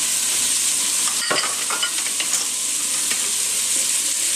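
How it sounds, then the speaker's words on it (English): Chopped tomatoes hit a hot pan of cooking shallots, giving a steady, close sizzle with a sharp burst as they land and light stirring scrapes after, no voices. "So I'm going to throw the tomatoes right in there."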